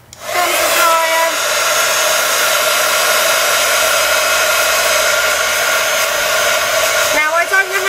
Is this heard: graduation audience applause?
no